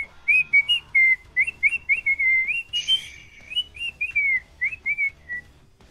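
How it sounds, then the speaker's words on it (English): A pet bird whistles and chirps in a lively run of short, high, tuneful phrases, close and clear against a quiet background. "Calm down, bird."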